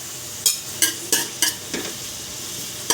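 Beef sautéed with ginger in a pan: a series of sharp spatula scrapes and stirs over a faint, continuous sizzle, close by with no talking.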